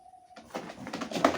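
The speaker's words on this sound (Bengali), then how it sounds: "এটা লং এর কবুতর" Racing pigeons, long-distance birds, give soft low cooing over about a second, starting after a brief tonal hum and swelling slightly toward the end, close and moderately quiet with no talk.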